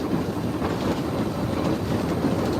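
Steady, dense rumbling noise of a steam railway train rolling along the rails at speed on the Isle of Wight, heard from the cab, continuous and fairly loud with no voices.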